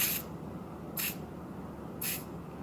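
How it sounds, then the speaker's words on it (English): Aerosol cleaner hisses in three short, sharp bursts into the firing pin mechanism of a Taurus PT99 9mm pistol, close up, with quiet pauses between sprays. "shake it well before spraying on into the firing pin mechanism. Spray it like this."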